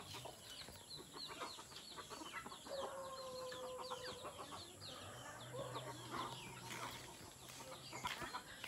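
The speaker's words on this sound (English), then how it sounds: "Look at the chickens, have many chickens in here." Chickens cluck and call repeatedly in the grounds of Magsaysay Elementary School in a mountain area, a soft, continuous flock chatter heard from a short distance with no talking.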